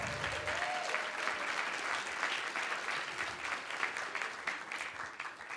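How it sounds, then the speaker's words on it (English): A panel audience gives a round of applause, a sustained, even wash of many hands clapping, heard at a distance and fairly soft, continuing without a break for several seconds. "Let's give them a round of applause"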